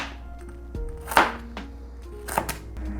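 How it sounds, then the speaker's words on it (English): A knife chops carrots on a cutting board, with about five crisp, separate strikes spaced irregularly across a few seconds, close and fairly quiet. "next I'm gonna be chopping up some carrots"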